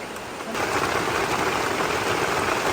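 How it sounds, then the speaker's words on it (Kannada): Heavy rain pours in a dense, loud roar that swells suddenly after a quieter start and then holds steady. "ಜೋರು ಮಳೆ ಬರ್ತಾ ಉಂಟು"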